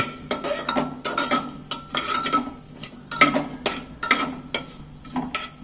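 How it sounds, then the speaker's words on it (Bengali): Whole cardamom, cloves, cinnamon and fennel are stirred in hot oil, giving a soft sizzle under repeated scraping and clinking of a spoon against the pan at a steady rhythm. "এগুলো একটু তেলে নাড়াচাড়া করে একটু ভেজে নেব।"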